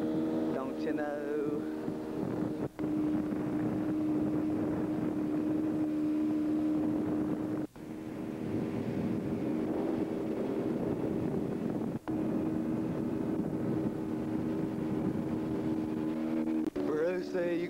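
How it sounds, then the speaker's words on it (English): A big boat's engine drones steadily on Summersville Lake with a low humming tone under wind noise, occasionally broken by brief thumps, continuing at an even level throughout. "Driving a big boat on the Summersville Lake"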